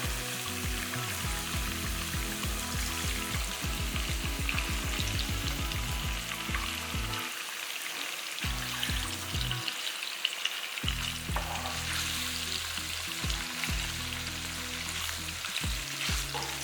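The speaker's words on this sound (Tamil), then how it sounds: "இந்த முட்டையும் பொறிச்சு எடுத்துக்கலாம்" An egg fries in oil with a continuous bright, crackling sizzle that stays close and even throughout, with a low droning hum beneath it and no one speaking.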